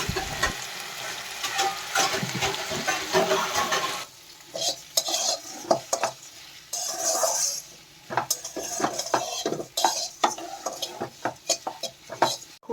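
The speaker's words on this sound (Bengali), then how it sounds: "একটু একটু করে সব মশলা দিয়ে এটাকে ভালো করে নাড়াচাড়া করতে হবে" Spiced potatoes with mustard seeds, cumin and curry leaves are stirred in a frying pan, sizzling steadily while a utensil scrapes and clinks against the pan in repeated strokes, loud and close, with no talking.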